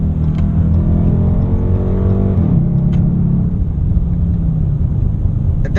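A 2017 Dodge Charger R/T with its base V8 revs hard, heard from inside the cabin with windows up: a loud, deep engine roar climbing in pitch, then dropping back to a steady rumble.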